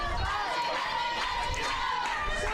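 Crowd noise at a softball game is picked up by a mic at the fence, with a steady murmur of chatter and scattered voices close by, under ongoing talk.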